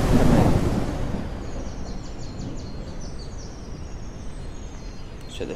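A thunderstorm in a survival video game: a loud low rumble of thunder swells at the start, then fades into a steady wash of wind and rain with faint high chirps, no one talking.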